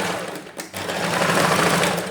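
A sewing machine stitches a princess dart blouse, a close, steady mechanical whir with rapid needle rhythm, briefly pausing before running on evenly.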